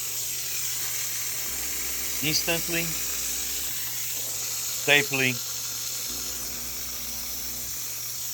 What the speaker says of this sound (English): Steam is an amazing tool to eliminate bed bugs.